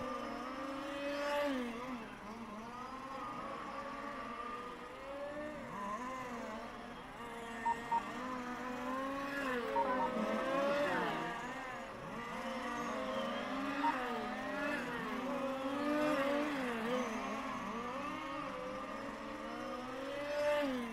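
Remote-control race cars run laps in a qualifying heat at the Race Car Series in Rucphen, with one pink-and-white RS5 chassis among them. A steady whine of small motors rises and falls as cars pass close and far, without pause.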